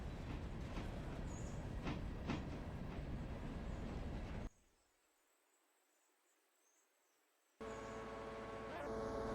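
Train in the video game Railroader rolling on rails, struggling under load, with rhythmic clatter and rumble, then a few seconds of near silence before the rail noise returns.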